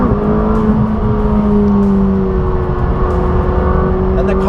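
A McLaren 600LT engine drones loud and close on a racetrack, its steady note holding and slowly rising with a faint whir alongside.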